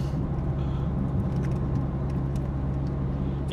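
Steady engine hum and road rumble from inside an Opel Astra F compact car on the move, a constant low drone with faint rattles and no talking.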